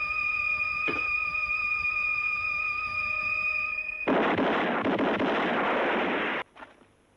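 The Last Word hand cannon fires in Destiny 2. A sharp crack cuts through steady tonal game music, followed later by a loud, sustained roaring burst that drops off suddenly, with no voices.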